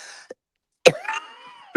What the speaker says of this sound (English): I start coughing as soon as I open the door into the cold air.